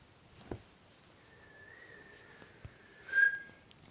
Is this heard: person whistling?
yes